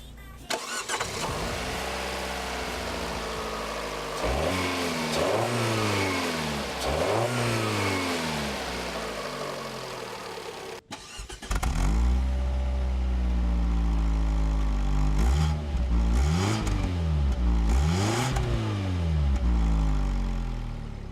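A 2017 Fiat 500C Pop with its 1.4-liter MultiAir inline four-cylinder rises through repeated sweeping revs as the car accelerates through the gears, close and loud, with a short break midway before the engine pulls strongly again.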